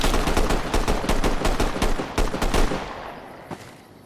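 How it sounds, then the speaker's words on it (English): Rapid bursts of automatic gunfire in Fallout: New Vegas (Tale of Two Wastelands mod) with enemies firing toward the player. Loud, dense volleys crack for over two seconds, then thin out into a few scattered shots fading with echo. "now I'm being shot at"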